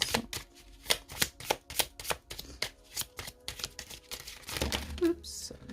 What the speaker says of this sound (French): On termine avec une carte de l'oracle des amoureux.